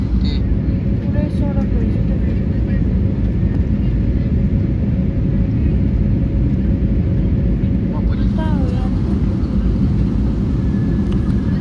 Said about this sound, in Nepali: प्लेन झऱ्यो चक्का टेक्न लाग्यो